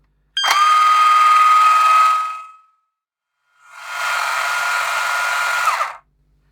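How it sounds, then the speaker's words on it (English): Greased gears inside a TOMY Atomic Pinball toy machine whir loudly in two bursts of a couple of seconds each, separated by a brief pause, with a steady mechanical buzzing hum close to the listener. "I'm just going to run that through and let the grease sort of spread itself across the gears"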